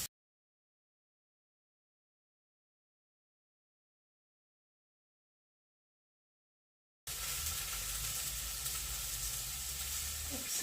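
Marinated chicken fillet fries in a pan with a steady, close sizzle that starts suddenly after a long silence and holds at an even level to the end.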